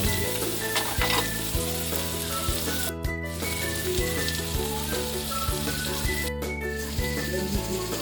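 Scrambled eggs with chili sizzle loudly in a pan. Background music with a steady beat plays throughout over the frying, and there are two short dropouts in the middle.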